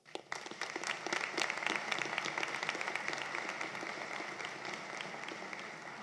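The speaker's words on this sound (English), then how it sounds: "Let's give her a round of applause." An audience at a college commencement ceremony applauds, steady crisp clapping from many hands heard fairly faintly in a large hall, sustained evenly for several seconds.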